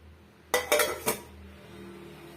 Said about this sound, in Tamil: இப்போ மூடி போட்டுடலாம்